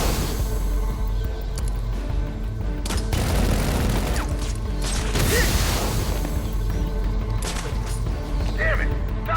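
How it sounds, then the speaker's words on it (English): Loud, busy game soundscape from Batman: Arkham Origins, with a broadband burst of a fire extinguisher explosion around the third second, followed by clattering, mechanical debris noise throughout. "Fire extinguisher caused the explosion."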